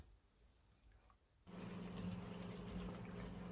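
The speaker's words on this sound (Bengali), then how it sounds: "এবার মশলার থেকে তেল ছেড়ে আসলে পরিমাণ মতন গরম জল অ্যাড করে" Hot water pours steadily into cooking masala for a rui fish curry with gathi kochu, a quiet hiss giving way after about a second and a half to a loud, continuous rushing splash that holds to the end.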